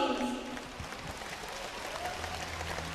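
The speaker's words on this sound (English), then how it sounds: "Let's applaud for the fencers from both teams." Audience applause for the fencers after a university games team bronze-medal fencing match, Hungary against Japan, a steady wash of clapping through the arena, fairly even and moderate in level, with a voice briefly over it.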